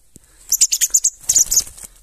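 A thrush calls close by in two quick bursts of sharp, high chattering notes separated by a short pause.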